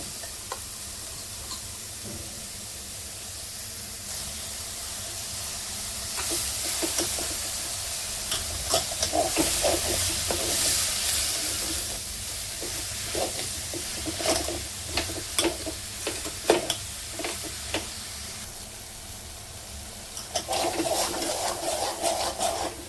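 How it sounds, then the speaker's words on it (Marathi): Chopped spinach and besan frying in oil with spices for a Vidarbha-style dal bhaji, a steady loud sizzle with repeated scraping stirs of a spoon against the pan, close up and continuous throughout. "दोन मिनिटं आपण पालक आणि बेसन तेलामध्ये छान भाजून घेतलेलं आहे मसाल्यासोबत"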